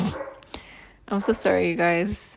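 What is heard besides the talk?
dog barking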